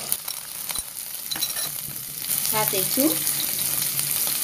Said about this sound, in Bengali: এখন মাছের মাথাগুলো আমি ভাজা লমো।